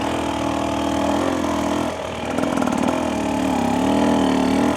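A 2025 Husqvarna TE300 dirt bike engine chugs at low revs lugging uphill, a steady throbbing drone that dips briefly before settling back into a strained, lugging rumble.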